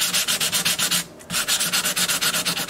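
A 12-string custom Rosa dreadnought guitar's finish is sanded by hand with 220 grit sandpaper, giving rapid rhythmic back-and-forth rasping strokes close up, with one short pause partway through.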